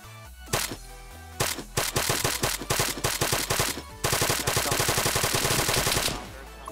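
Gunfire in the Arma video game on the Takistan map: several separate bursts and single shots, then a long sustained automatic burst, loud and close with a sharp crack on each round.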